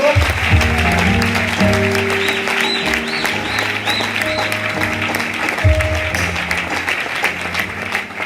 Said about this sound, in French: Acclamez bien encore.